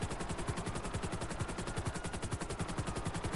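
A minigun fires from a vehicle in GTA, a fast, unbroken stream of shots that stays loud and even throughout with no talk over it.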